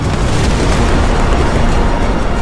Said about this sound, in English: an Austrian ammunition wagon is hit and detonates in a tremendous explosion